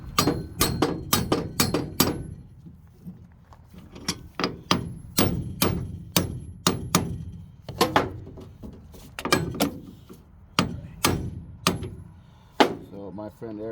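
A hammer bangs on a truck U-joint underneath the vehicle, with many sharp metallic strikes in uneven bursts, close and loud.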